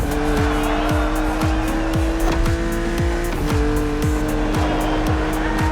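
A BMW Z4 E89 driven in the racing game The Crew Motorfest: a loud, steady engine drone with repeated rising gear-shift sweeps and tire squeal, close and continuous throughout.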